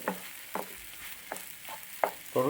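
Spatula strokes scrape and stir eggs scrambling in a hot pan for egg bhurji, a soft sizzle running underneath. The scrapes come about every half second in a steady rhythm, close and moderately quiet.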